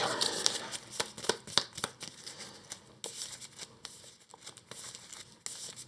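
Cards from an Earthborne Rangers path deck are shuffled by hand nearby, a run of quick crisp riffles and snaps with short pauses between bursts.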